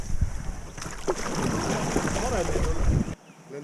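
A boat backs up on the water, with steady wind buffeting the microphone over engine and water churn for a few seconds. A voice is faintly present before the noise cuts off abruptly.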